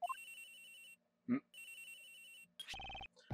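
A cell phone rings inside a detective video game scene, giving repeated bright electronic ringtone bursts that stop and restart, with a short game blip between them and a loud chiming cue at the end.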